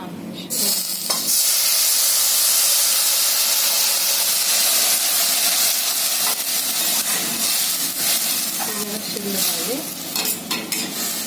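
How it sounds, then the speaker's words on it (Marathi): Water poured into a hot pan of vermicelli already fried in ghee sets off a loud, sustained hiss of steam and sizzle that stays steady and close, then eases slightly toward the end. "शेवयांना मी पाणी घालते शिजायसाठी"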